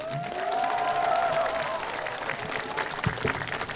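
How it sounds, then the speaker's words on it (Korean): Campaign-rally audience applauding Yoo Il-ho, election committee chair, at an outdoor joint rally at Seokchon Lake, Songpa, Seoul; steady mid-level clapping and crowd noise throughout, with a loud voice over it early and a couple of sharp knocks near the end. "유일호 선대위원장께 다시 한번 큰 박수 부탁드립니다"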